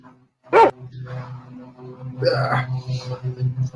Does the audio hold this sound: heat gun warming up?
no